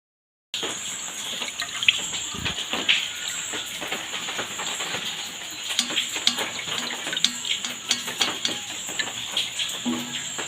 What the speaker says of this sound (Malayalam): ഇനി നമുക്കൊരു ഫ്രൈ പാന് വെച്ച് അതിലേക്ക് ഒന്നും കൂടി അരിച്ചൊഴിക്കാം.